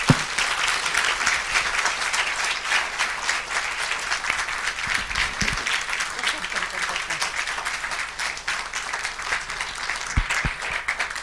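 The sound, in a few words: applause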